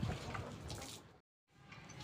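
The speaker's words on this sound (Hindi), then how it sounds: "पानी मैंने छिड़क दिया अच्छी तरीके से" Water sprinkled across a rooftop while a hen setup is cleaned gives a steady splashing hiss that cuts out for a brief silent gap, then resumes.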